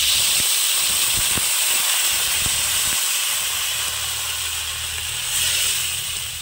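Water poured into a hot pan of well-sautéed potato curry for a Bengali ash gourd dhoka dish, giving a loud, steady steam hiss and sizzle that fills the whole stretch, with a few faint clicks early on.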